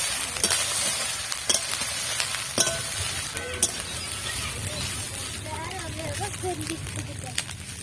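Jeera rice with green chili and ground black pepper being stirred in a pan, with a low steady sizzle and scattered clinks of the spoon against the metal.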